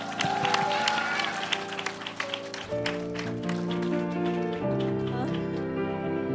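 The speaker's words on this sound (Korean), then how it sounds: "다시 한번 큰 박수 부탁드립니다" Applause rings out from a crowd at a live public radio broadcast after a kindergarten children's performance, scattered claps over sustained musical tones that shift pitch midway, with a lively, busy texture.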